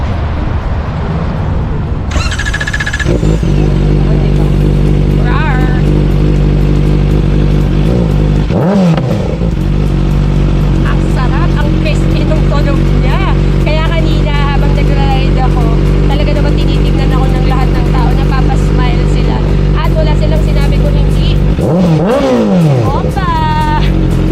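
Kawasaki ZX4RR motorcycle engine revving up near and loud, with a steady idle and rising, falling rev sweeps, alone without talk.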